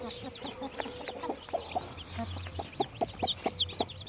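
A yellow hen clucks near her chicks in a farmyard, giving short soft clucks in an irregular rhythm that grows denser toward the end, with other birds calling faintly in the background.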